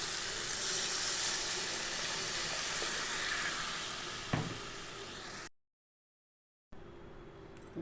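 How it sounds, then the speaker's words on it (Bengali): A potato curry sizzles hard in a pan as water goes in, a loud steady hiss with a brief clatter near the end before it cuts out, then quieter bubbling resumes. "এবার আমি এর মধ্যে জল দিয়ে দেবো"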